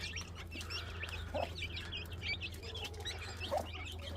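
A hen clucks among chicks in a garden, with soft repeated clucks and faint high chick peeps close by, on a low steady background hum.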